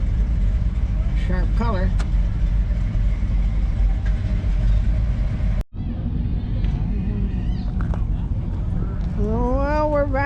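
An Oldsmobile's engine rumbles at a classic car show, a steady low drone with a brief dropout midway, then a rising whine as it revs or pulls away, with a voice speaking briefly.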